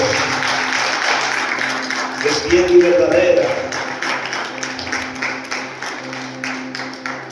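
Church congregation applauding during a sermon, moderate clapping that builds and continues under a preacher's voice speaking over it.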